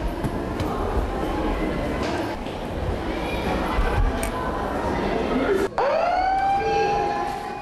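A school evacuation siren in an earthquake-safety drill, starting with a sharp onset and a rising wail that holds steady and loud near the end, after a stretch of noisy background with talk.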